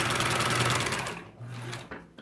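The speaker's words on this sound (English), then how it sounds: "I suppose I'll cut off my little backer and sew it back onto here" A sewing machine stitches quilt block pieces together, a steady close whirring run for about a second, a pause, then a shorter burst before stopping.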